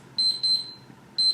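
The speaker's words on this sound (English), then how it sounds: "it's my timer for the ginseng." A kitchen timer set for ginseng sounds close and loud with rapid, shrill electronic beeps in a quick cluster, pauses, then starts another burst.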